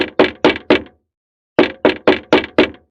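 Knocking on a door in a horror story scene: four sharp, loud raps, a pause of about half a second, then five more evenly spaced knocks, with no voices.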